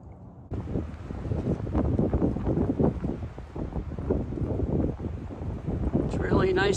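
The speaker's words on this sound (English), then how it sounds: "It's really nice and breezy up here." Breezy wind buffeting the microphone on the McAfee Knob mountain top in Virginia, a steady rough rumble that starts abruptly and continues throughout, close and loud, with a faint voice near the end.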